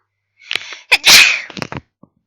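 A single loud, close sneeze with a quick intake of breath before the sharp burst, followed by brief snuffling, indoors during a webcomic artist's livestream.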